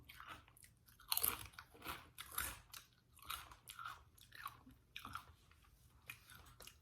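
Close, quiet bites and chewing on a burrito with queso and Doritos, a sharp crunch followed by repeated soft, wet, crunchy chews in an uneven rhythm, with no talking.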